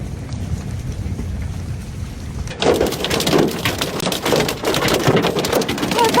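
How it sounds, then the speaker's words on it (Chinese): Hail pelts down during a storm in Beijing: a quieter rumble gives way suddenly to a loud, dense, rattling patter of hailstones striking hard surfaces that continues without pause. "满地的冰雹。"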